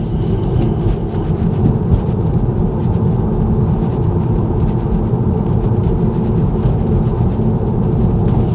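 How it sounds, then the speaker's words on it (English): Steady, dense rain hiss fills the whole stretch in Detroit, Michigan, a constant wash of noise with a low rumble beneath, no voices. "The rain is starting to pick up, so we might have some issues."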